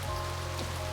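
Heavy rain pounds steadily on pavement in a visual novel scene, a dense continuous wash of falling water heard alone, with no voices.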